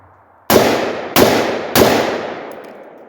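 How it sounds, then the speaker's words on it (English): Three sharp AR-15 rifle shots using Tula ammunition ring out loud and close at roughly half-second intervals, each followed by a short decaying echo. "So this is the AR-15."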